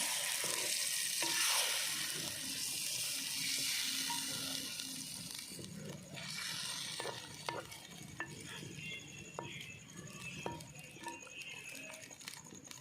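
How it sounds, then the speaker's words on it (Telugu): Drumstick and boiled egg curry is stirred in a pan with a spoon, giving scraping strokes and sharp metallic clinks against the pan over a soft bubbling simmer, with no voices. "ఇప్పుడు కలుపుతున్నాము"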